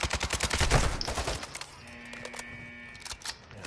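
Burst of rapid gunfire in a co-op shooter video game, dense loud shots in the first second and a half, then quieter game ambience with a low hum and occasional softer pops.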